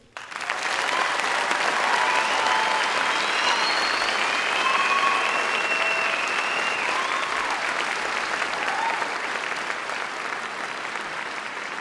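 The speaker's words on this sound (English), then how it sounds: "I believe a good applause would be needed" Dense, sustained applause from a graduation crowd at Compass Academy, rising quickly and holding steady for several seconds as a graduate's name is called, with faint cheering mixed in.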